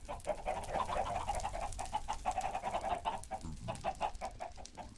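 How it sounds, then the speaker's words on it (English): Minecraft chickens cluck continuously in a crowded flock, overlapping short clucks sounding close and steady in a rapid, uneven rhythm with no talk. "These chickens refuse to work with me here."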